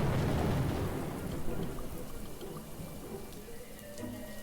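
Steady rain falls with a low rumble of thunder in the Little Goody Two Shoes video game, a dense constant wash that fades slightly over the seconds.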